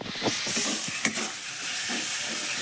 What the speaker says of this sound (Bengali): স্বাদ ব্যালেন্সের জন্য চিনি দিয়ে ভালো করে মশলাটা কষিয়ে দেবো।